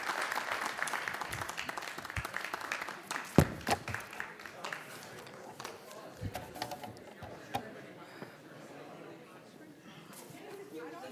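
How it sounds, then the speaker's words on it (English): Applause from a Rotary Club gathering, a burst of many hands clapping that fades after a few seconds into scattered claps, taps and room chatter. "One more round of applause"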